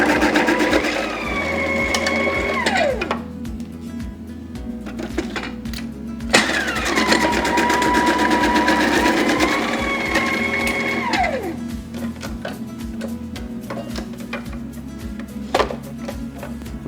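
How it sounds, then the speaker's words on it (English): A HALLDE CC-34 vegetable preparation machine runs steadily with a 4mm slicer disc fitted, cutting cabbage; a constant motor hum carries repeated rising and falling whine as batches pass through, close and fairly loud, with no talk. "we're going to slice the cabbage on a 4mm slicer"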